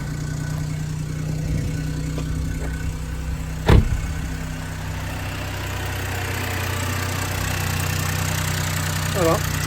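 A BMW 116i engine, with freshly changed spark plugs, catching on the first try, giving one sharp starting burst that settles into a steady, loud, even idle.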